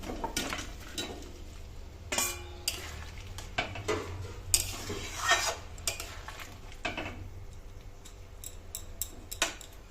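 Cauliflower florets go into a simmering gravy in a pan for Bengali phulkopi rezala, bringing scattered light clinks, taps and stirring scrapes of a spoon against the pan, close and fairly quiet.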